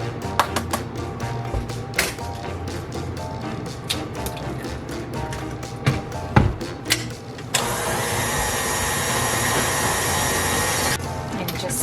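An electric mixer beats batter with eggs for a 1944-style banana bread, first with clattering knocks and taps as eggs go into the bowl, then a loud, steady whirring drone that runs for several seconds before cutting off.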